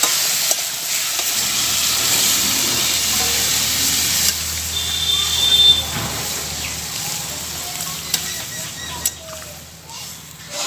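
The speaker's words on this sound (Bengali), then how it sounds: "এবার আমি এর মধ্যে দিয়ে দেব পরিমাণ মতো জল" Steady loud sizzling and hissing of a hot pan of spiced vegetables for a thin fish curry after water goes in, continuous steam frying with faint stirring clinks, close up, no talk.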